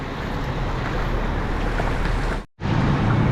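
Flood water rushing after a full day of rain, a steady broadband wash with wind buffeting the mic, continuous and loud, with a brief dropout near the end.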